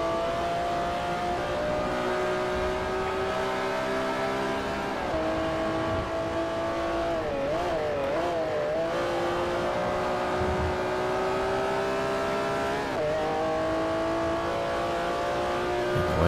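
Supercar engine in the Forza Motorsport 4 racing game, racing on the final lap of the Supercar Open: a loud, continuous high-revving roar with pitch rising and dipping through gear changes and corners.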